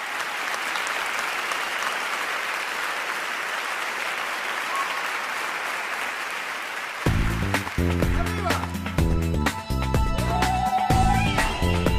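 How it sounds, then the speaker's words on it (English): A large audience claps at an awards show, steady, dense applause filling the first seven seconds before music takes over. "Let's give her a warm round of applause"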